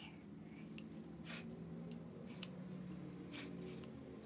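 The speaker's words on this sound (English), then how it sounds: "And as I spray, I'm gonna rub it in at the same time." Product is sprayed onto a long curly wig in a few short, soft hissing bursts spaced a couple of seconds apart, faint and close with no talking.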